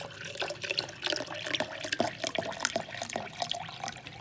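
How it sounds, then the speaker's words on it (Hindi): Water is poured into a container for a homemade health drink, a continuous splashing pour with small drips and bursts, fairly close and moderately loud, with no talking. "उसके अंदर आपको पानी ऐड करना है"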